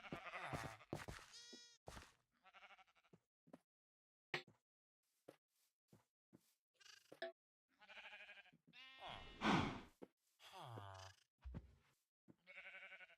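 Minecraft sheep bleat several times in a game world, short nasal calls scattered among clicks and other game sounds, some loud and close, with a voice talking in between.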